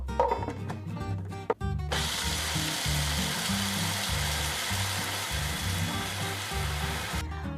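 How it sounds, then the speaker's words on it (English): A food processor grinds roasted unsalted peanuts into fine powder, starting with a brief rattle of nuts before a loud, steady whirring roar that runs without a break and then cuts off, no talking. "We're going to put that in the food processor and grind until it's as fine a powder as"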